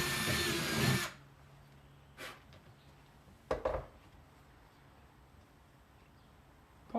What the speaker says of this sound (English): Drill a hole through the side of the box up near the top.